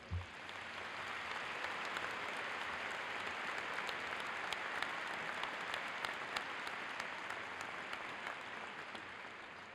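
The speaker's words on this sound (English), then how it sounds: "Let's give them a round of applause" An audience at a School of Education graduation ceremony applauds steadily for the whole stretch, a dense, even wash of many hands clapping in a large hall, with no speech over it.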